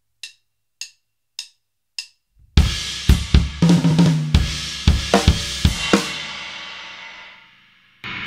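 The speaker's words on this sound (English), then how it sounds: "Again, bass drum and crash, two bass drum hits, and there is one edge ride crash in here as well." Four quiet clicks count in before a drum kit hits with bass drum and crash together, followed by a run of punchy bass drum and cymbal strikes, including an edge ride crash, that fades into a long ringing wash.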